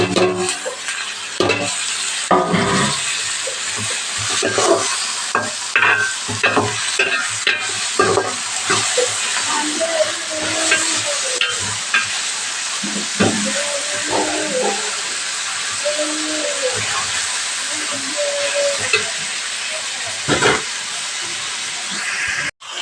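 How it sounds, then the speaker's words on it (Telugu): Tomato and onion pieces fry in a pan with a continuous hissing sizzle, broken by repeated stirring and scraping strokes close by, with no speech. "టమాటా ముక్కలు ఉల్లి ముక్కలు కూడా అయితే చక్కగా ఫ్రై అవుతుంది"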